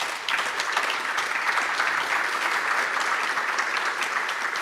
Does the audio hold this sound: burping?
no